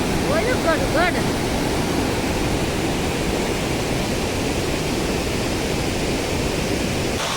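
Broad, constant roar of a river swollen by heavy rain, rushing loud and unbroken, with a brief voice near the start.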